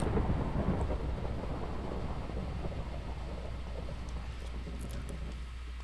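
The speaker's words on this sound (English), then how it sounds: "Well, hello, Storm." A thunderstorm with rain in a Minecraft Feed the Beast modded world makes a steady, even hiss of rainfall over a low constant rumble, with no voices.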